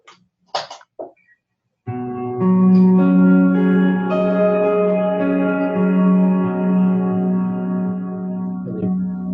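Sustained, layered harmonic tones a perfect fifth apart, representing resonant planets, build one after another into a soft, resonant drone, steady and dreamy, ringing on for several seconds after a few brief opening sounds.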